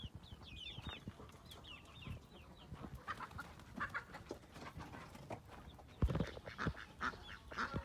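Çapar chickens cluck in a coop in Taşköprü, Kastamonu, with scattered calls and chirps, some ducks or geese mixed in, and a few louder knocks and bursts of flock noise.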